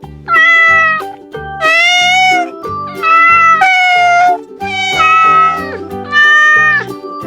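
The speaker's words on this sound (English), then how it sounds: "Cat." A farm cat meows loudly up close, five long, drawn-out cries in succession with brief pauses between them.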